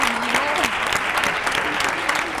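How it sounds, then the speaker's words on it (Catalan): A studio audience at a televised word quiz claps in a dense, steady burst of applause, close and loud, while a voice talks over the clapping. "Aplaudim-lo, aplaudim-lo."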